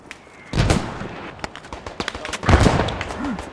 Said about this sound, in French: Arrêtez les obus, ouais, pardon.